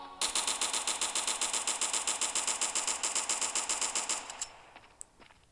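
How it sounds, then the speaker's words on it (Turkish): Rapid automatic AK-47 fire from the game Graal Online rattles in one long, evenly spaced burst of about four seconds, loud and close, then cuts off into a few faint clicks. "Sonra AK-47 var."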